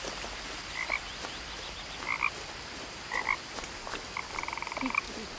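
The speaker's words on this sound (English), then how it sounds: "I hear a frog." Frog croaking in the video game What Remains of Edith Finch, short paired croaks repeating every second or so, then a quick rattling burst, moderately near over a steady ambient hiss.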